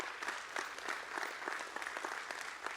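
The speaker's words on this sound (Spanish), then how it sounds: "un aplauso a la banda" A church congregation applauds the worship band, a steady wash of many hands clapping at moderate distance throughout, with no talk over it.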